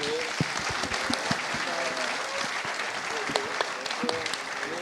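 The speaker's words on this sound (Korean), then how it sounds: "세 분 회장님들께 큰 박수로 부탁드립니다" Sustained, dense applause from a live audience at a talk concert honoring three former chairmen of the Korea Developers Association, with close, crisp clapping filling the whole stretch at an even level.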